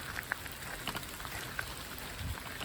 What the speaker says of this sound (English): it's literally raining